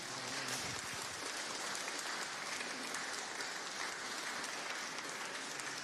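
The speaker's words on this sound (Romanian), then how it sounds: "Puteți să-l aplaudați, vă rog." An audience at a live talk on Genesis and the Bible applauding in a continuous, even wash of clapping, faint and steady without breaks.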